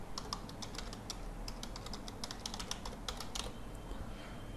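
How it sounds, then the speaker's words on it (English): An email address is typed on a computer keyboard: quick, light key clicks in uneven bursts, close and fairly quiet over a low background hum. "you need to type your mailbox address"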